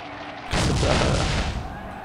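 Gunfire in the video game Soldier of Fortune lands as a single loud, close burst of weapon fire lasting about a second before trailing off.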